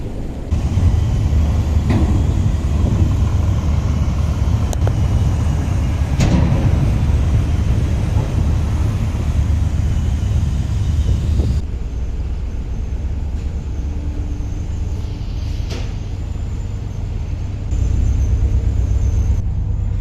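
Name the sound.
ferry engine rumble, Lanzarote to Fuerteventura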